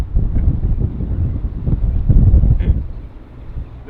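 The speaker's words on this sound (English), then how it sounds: "Probably hear the wind. It is pretty windy." Gusty wind on a windy golf course buffets the microphone in low, uneven rumbles that swell and fade over a few seconds.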